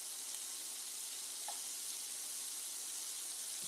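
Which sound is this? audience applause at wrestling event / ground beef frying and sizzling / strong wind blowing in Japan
ground beef frying and sizzling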